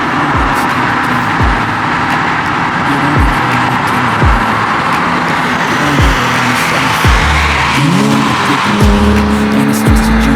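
Porsche cars under load on a highway, engines rising and falling through repeated accelerations with some tire noise, loud and close, over a steady roar of road noise.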